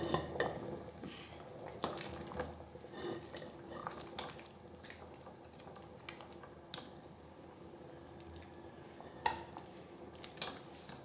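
Cooked bamboo shoots, mixed with assorted legumes, being scooped and transferred into a pot, giving a run of light clinks and scrapes of utensils on cookware, moderately close and fairly quiet, with no talking.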